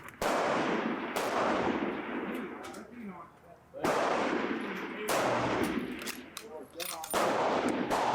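Loud close gunshots ring out in pair firing at a shooting match, several sharp cracks with long echoing decay and blasts overlapping in quick succession.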